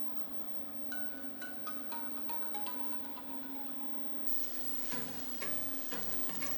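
Thai-style turkey meatballs brown in a hot pan with a constant close sizzle, joined near the end by a few clinks and scrapes of stirring; no one speaks.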